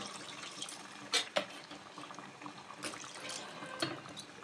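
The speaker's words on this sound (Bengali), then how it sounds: "এবার আমি এখানে জল ঢেলে দেব।" Water poured into a pan of chicken curry, a soft running liquid sound with a few brief splashes and clatters, fairly quiet and without talk.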